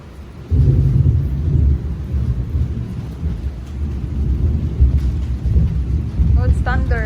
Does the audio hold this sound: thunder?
yes